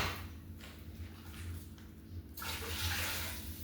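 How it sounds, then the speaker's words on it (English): Water running from a tap to be boiled, a steady low rushing wash that swells louder toward the end, close by with no talk. "So I'm gonna boil a little more water."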